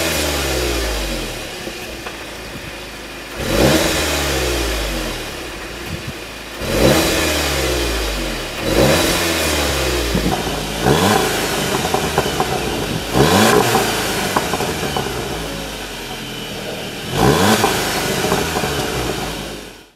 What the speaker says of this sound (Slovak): najpodstatnejšia zmena u novej Cupry je nový výfukový systém a teda lepší zvuk